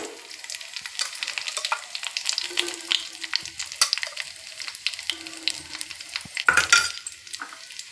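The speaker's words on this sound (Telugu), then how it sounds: "బాగా కలుపుకుంటూ వేయించుకోవాలి" Steady sizzling of vermicelli frying in ghee, with scraping and clinking as it is stirred in a pot, no voices.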